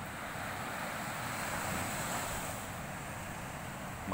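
Sea waves breaking and washing continuously against the shore at Mati, Davao Oriental, a steady broad surf roar with some wind across the microphone, no voices.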